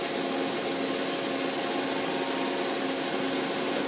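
A 1996 Nakamura-Tome TMC 15 CNC turning center with a 6-inch chuck spins at 1,000 RPM, giving a steady, even machine whir and hiss with no variation and no talking.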